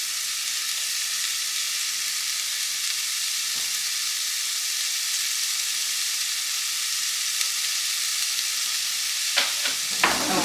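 Softened vegetables with tomato puree sizzle steadily in a pan for cottage pie, an even bright hiss broken by a couple of faint clicks near the end, with no talking.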